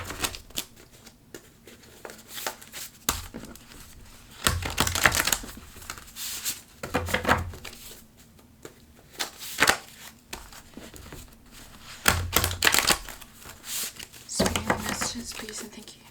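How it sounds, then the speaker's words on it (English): A deck of spirit cards is shuffled by hand in bursts of soft riffling and papery flicking, close and quiet, with pauses between and faint whispered talk underneath. "It's gonna be kind of hard to shuffle, but also some of these are turned around."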